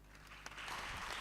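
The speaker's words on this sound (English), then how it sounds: "A round of applause for him." Audience applause at an anniversary celebration and general meeting swells into a brief burst of clapping, moderately loud and diffuse across the hall.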